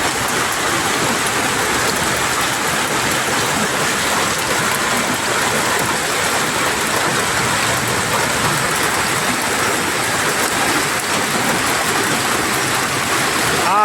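Hail and rain fall in Saudi Arabia as a dense, steady downpour that drums constantly on surfaces nearby and stays even and loud throughout.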